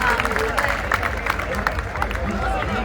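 Audience at a college fest comedy poetry event clapping, a dense, steady patter of many hands with crowd murmur underneath.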